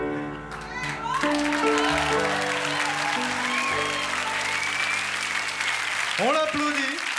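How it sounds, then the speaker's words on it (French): Studio audience applause at a French TV children's singing show, a steady dense clapping that fills the clip over lingering music and a voice, swelling briefly near the end. "On l'applaudit, comme elle la mérite."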